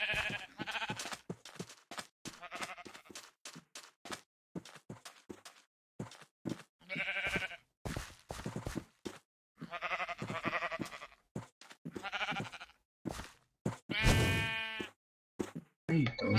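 Sheep bleat over and over at close range, loud, with bursts of cries between short gaps, while someone speaks Portuguese and urges the flock on.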